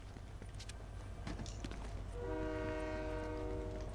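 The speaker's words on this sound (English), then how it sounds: "The train is coming." Horn blasts from an approaching train in the Fortnite video game, sustained tonal honks joining the low rumble of the passing rail cars and growing louder over a steady background of game sounds.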